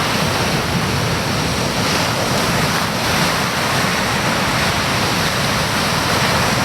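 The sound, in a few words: large ocean waves breaking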